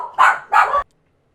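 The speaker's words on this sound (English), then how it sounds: "okay, sorry, my dog scared me." Two loud, close dog barks in quick succession, then silence, breaking into a home gaming session.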